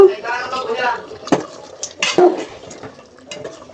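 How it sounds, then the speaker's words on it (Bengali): A spiced beef curry is stirred in a pot, giving scattered scrapes and clinks of a spoon against metal at close range, with voices talking over parts of it. "এবার একদম ভালো করে নেড়ে ছেড়ে দিব।"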